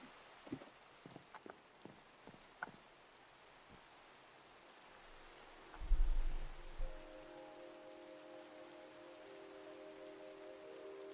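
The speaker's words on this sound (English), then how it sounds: "I don't remember the last time I stopped to appreciate the rain." Minecraft rain falls as a steady soft hiss throughout, with a few faint clicks early on, a low rumble near the middle and a sustained tonal hum joining in the second half.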